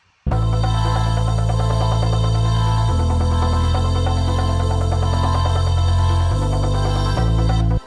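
A loud, dense music passage plays continuously, with sustained bass notes shifting pitch every few seconds under a busy layered arrangement.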